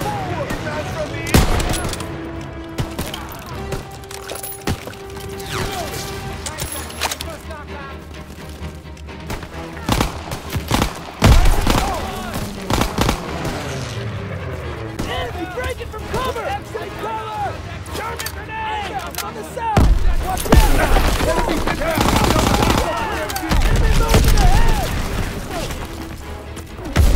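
Frequent rifle and machine gun fire crackles through a loud Call of Duty: WWII battle, sharp close shots and bursts scattered throughout, with soldiers shouting over the fighting and explosions.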